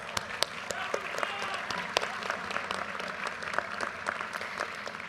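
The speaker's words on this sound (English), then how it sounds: "you deserve your own round of applause" Sustained audience applause at an MBA graduation ceremony, a dense crowd clapping steadily with scattered sharp hand claps standing out, even in level across the whole stretch.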